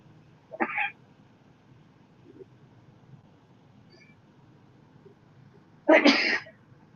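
Two short bursts a few seconds apart, the second louder, sounding like sneezes against a quiet room.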